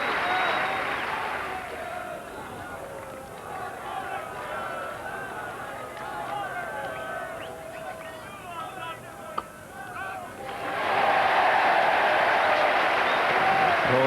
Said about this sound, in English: Applause round the ground for Andy Lloyd, reaching his half-century.